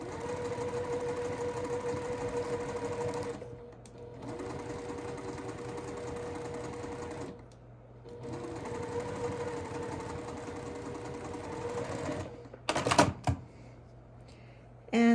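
A sewing machine stitches a quilt block of fabric in steady rapid bursts, pausing twice briefly, with a few clatters near the end; the whirring runs fairly close and even throughout.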